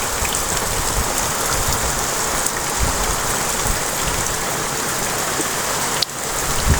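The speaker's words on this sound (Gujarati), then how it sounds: "જુઓ કેટલો બધો વરસાદ પડી ગયો છે" Heavy rain pours onto open farm fields, making a dense, loud, steady hiss of drops that continues without pause.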